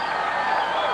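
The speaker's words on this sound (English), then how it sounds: "Ladies and gentlemen, nice round of applause for both fighters." A crowd at a Superbrawl MMA event in Hawaii gives a round of applause for both fighters after an armbar submission, a brief, dense burst of clapping and crowd noise.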